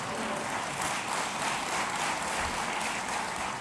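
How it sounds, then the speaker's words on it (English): Sustained applause from an inauguration ceremony audience honouring mothers, a dense, steady wash of many hands clapping at close range throughout. "moms get an extra round of applause"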